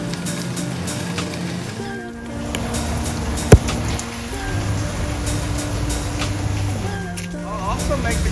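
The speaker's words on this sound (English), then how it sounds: "I haven't seen it rain as hard as it is right now" Heavy rain pours steadily in a continuous, close wash of noise, with a low engine-like drone underneath and one sharp knock partway through.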